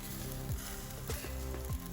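Meat sizzles on a barbecue grill outdoors in a blizzard, a faint, soft crackle under quiet tonal hum, with a few brief sliding squeaks.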